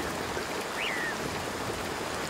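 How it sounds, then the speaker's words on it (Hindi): Heavy rain in a cartoon jungle scene, a steady wash of falling rain and running water that stays fairly faint and constant throughout, with a brief chirp-like tone partway through. "जैसे जैसे बारिश तेज होती गई, बारिश का पानी पंछियों के घोंसलों तक पहुंचने लगा।"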